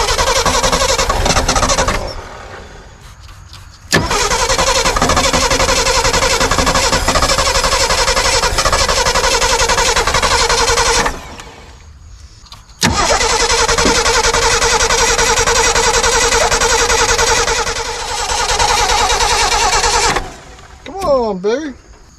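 A Ford Bronco engine, unstarted for over 30 years, cranks and catches, running loud in long sustained bursts with brief pauses between attempts; voices talk near the end.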